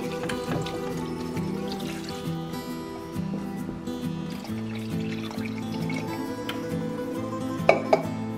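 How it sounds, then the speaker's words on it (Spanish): Water is poured steadily into a pot holding zucchini, chicken, broccoli and cabbage, a continuous close fill with a rising pitch and a couple of light clinks near the end. "Ahora sí vamos a agregar agua hasta que se tape todo."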